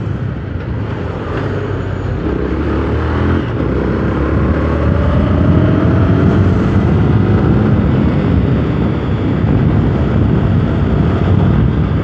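Motorcycle running on reserve fuel, its steady engine drone mixed with strong wind buffeting the microphone throughout, loud and continuous with no talk.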